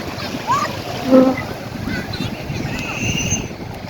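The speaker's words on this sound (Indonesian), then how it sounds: "Anginnya banyak." Wind buffets the microphone on a beach under an overcast sky in northern Aceh, a steady low rumbling roar with faint splashes, while people talk in the background.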